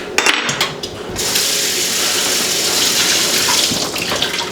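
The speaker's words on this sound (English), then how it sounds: "I'm just gonna do a little rinse just to get some of that beet juice out." Running water from a kitchen tap pours steadily as beets are rinsed in a bowl to wash off their juice, a continuous close hiss after a few brief clatters at the start.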